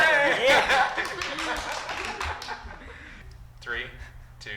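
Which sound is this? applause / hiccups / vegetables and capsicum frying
applause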